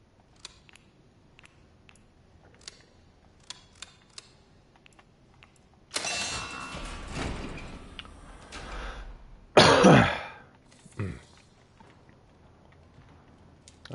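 A person coughs and clears their throat indoors near a computer, a few loud rough bursts in the middle after quiet clicking and typing, close and alone.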